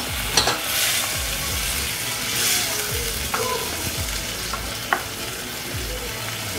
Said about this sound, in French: Je vais laisser juste cuire quelques minutes, 2-3 minutes